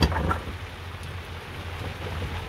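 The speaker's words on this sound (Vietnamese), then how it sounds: "Mưa gió lạnh lẽo quá trời" Cold wind-driven rain beats steadily on a fisherman's tarp-covered boat in the Mekong Delta, opening with a louder rush before settling into an even, continuous patter.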